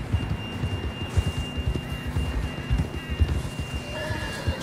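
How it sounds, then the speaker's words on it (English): A horse's hooves beat in a steady clip-clop rhythm as it gallops in Red Dead Redemption 2, close and constant over soft ambient game sound. "John was riding that horse when we left Blackwater."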